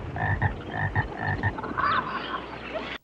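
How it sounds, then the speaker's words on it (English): A dense chorus of frogs croaks in a film scene, rapid rhythmic pulsing calls layered over one another, fairly loud and continuous before cutting off abruptly. "There are a lot of frogs."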